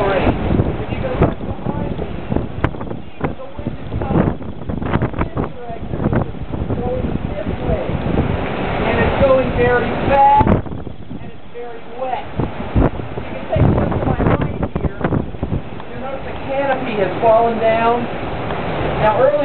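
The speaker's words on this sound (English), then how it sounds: "we've been gusting our wind somewhere in the 60 to 70 mile range." Hurricane Wilma's gusting winds, estimated at 60 to 70 mph, roar steadily and buffet the microphone outdoors in near-continuous loud rushing waves, with a brief lull midway and someone talking throughout.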